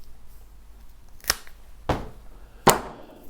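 Three sharp snips of pruning shears cutting off a weaker plant shoot, evenly spaced about half a second apart, close and crisp against a quiet background with no talking.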